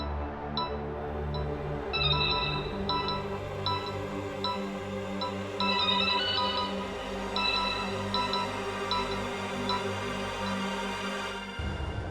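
A phone rings with an incoming call during a tense domestic exchange in a Hindi crime drama, a repeating electronic ringtone chirping in steady bursts over a low background music bed for about eleven seconds, then cutting off.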